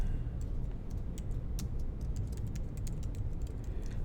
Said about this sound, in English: Now if I click here and start typing